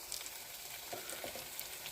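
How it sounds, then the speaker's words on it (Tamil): Garlic and onion sauté in a pan, a steady soft sizzle and fry with a few faint stirring scrapes, quiet and continuous with no talking. "பூண்டும் வெங்காயமும் நல்லா 3/4 பதம் வதங்கிடுச்சு"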